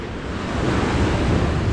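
Steady surf and wind at Waikiki Beach, Hawaii, form a loud, continuous wash of breaking waves with gusty microphone buffeting and no voices.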